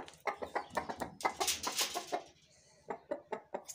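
A rooster clucks in quick rhythmic bursts, nearby and clear, pausing briefly before a few more clucks.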